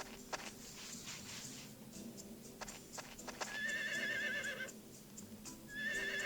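A horse in a farming video game neighs repeatedly, its whinnies rising over light clip-clop hoofbeats and soft game ticks, with two long, bright calls standing out clearly.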